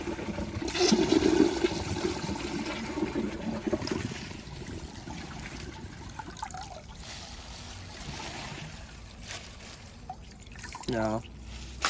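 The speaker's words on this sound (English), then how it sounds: "how about we flush all of it?" A 2021 American Standard Madera toilet flushes up close, a loud rushing swirl of water draining away, then settling into dripping and trickling refill sounds.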